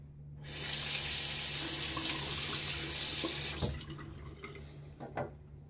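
Water runs steadily from a bathroom tap during a rinse after a shave, a close hiss that stops partway through and is followed by a few drips and splashes, with no talking.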